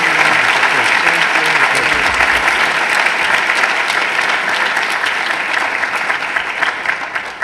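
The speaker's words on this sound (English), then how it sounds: "But shouldn't we give her another round of applause?" A lecture audience gives a sustained, loud round of applause with dense clapping that stays steady throughout and tapers slightly toward the end.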